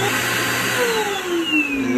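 A barber shop floor vacuum hums steadily while sucking up cut hair, and its whining pitch slides down as the suction changes.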